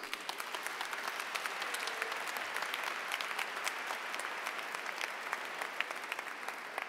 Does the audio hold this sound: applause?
yes